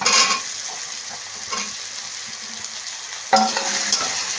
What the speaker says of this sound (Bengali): আলুটা দিয়ে বেশ ভালো করে আবার একটু নাড়ব